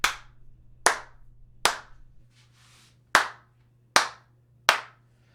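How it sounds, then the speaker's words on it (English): One person clapping six times at slow, even intervals in an indoor room, each sharp clap followed by a short reverberant tail over a low steady hum. "I'm going to clap a couple times so you can hear some reverb in the room."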